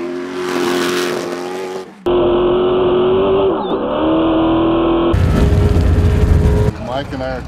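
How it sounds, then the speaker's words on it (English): A race car engine roars and accelerates during the Vegas to Reno off-road race, loud and close, with sharp changes in the engine note between segments and a rising rev toward the end, heard alone without talk. "Mike and I are taking the car to about 160, and then Morgan Langley gets in."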